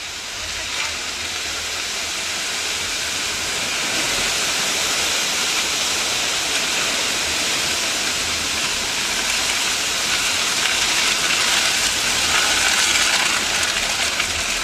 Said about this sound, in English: The winds are still gusting.